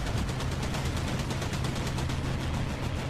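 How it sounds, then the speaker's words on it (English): Sustained machine gun fire aimed at ships in the naval combat game Battlestations Pacific, a loud, dense, unbroken rattle of rapid shots throughout, with no talking. "Usually your machine guns can only can damage certain ships."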